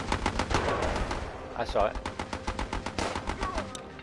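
Rapid machine-gun bursts from a gun turret in the video game Battle Island Commanders, loud and sustained through most of the stretch, with someone talking over the gunfire.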